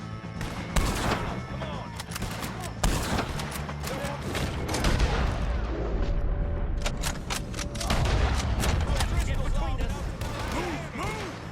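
Rapid bursts of gunfire in a video game shootout with the O'Driscolls, repeated shots crackling throughout, some close and loud, with people shouting over the fight.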